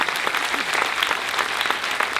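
Dense audience applause fills the room at a leadership day event, a steady wash of many hands clapping at an even, full level with no gaps.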